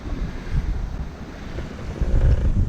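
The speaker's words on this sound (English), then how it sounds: "so that's 16 to 19 knots of wind" Wind of around 16 to 19 knots rushes past a sailboat at sea, a steady roar with microphone buffeting, and waves slosh against the hull, swelling louder toward the end.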